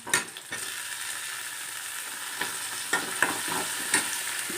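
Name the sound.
tomatoes sautéing in pan for muchaka curry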